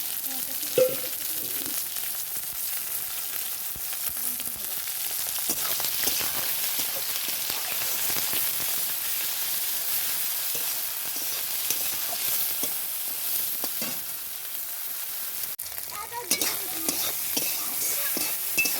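Small cut shrimp sizzle in a pan over constant hiss while a utensil stirs them in irregular scraping knocks, close and steady, with a brief faint voice.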